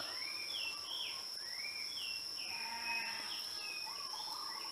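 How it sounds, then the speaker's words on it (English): Sheep bleating in a series of wavering, rising and falling calls, several in a row at moderate distance over a faint steady background hum. "Uh-oh, woke up the sheep."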